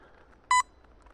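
A Nokta Makro Midi Hoard metal detector gives one short, loud electronic beep in an otherwise quiet setting.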